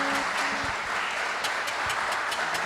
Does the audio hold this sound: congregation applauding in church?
yes